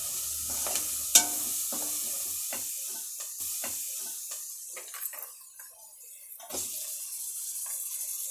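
Chicken frying in a pan with sautéed ginger and garlic, a steady close hiss with a few stirring scrapes and clicks scattered through, no talk.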